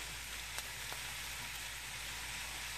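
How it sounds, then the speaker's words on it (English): Food frying in a pan for buffalo chicken pizza, a continuous bright sizzle with a few small pops, fairly faint and steady with no talking. "I'm gonna start to fry this up"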